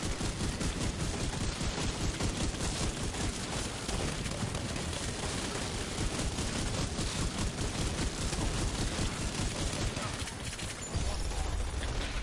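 Dense, continuous gunfire fills a boss fight in The Division 2's Iron Horse raid, with rapid overlapping shots and impacts that stay loud and unbroken throughout.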